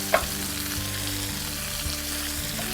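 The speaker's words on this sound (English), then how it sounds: "that's about 1/4 of a stick of butter. And we're gonna let that melt." About a quarter stick of butter melts in a hot pan, sizzling and fizzing evenly throughout with a low steady hum behind it.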